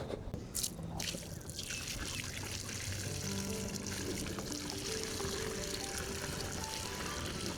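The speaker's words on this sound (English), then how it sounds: "Now we can add some water." Water poured from close by onto the soil around a newly planted bare root pear tree in a backyard garden, a steady continuous splashing pour that runs unbroken with no talk.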